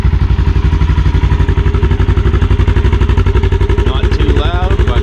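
A customized 2021 Polaris General 1000 XP side-by-side idles close by with a steady, loud, pulsing rumble from an aftermarket exhaust, slightly louder than stock, while a voice speaks briefly near the end.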